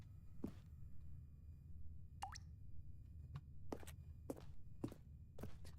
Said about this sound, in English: I'm hearing water.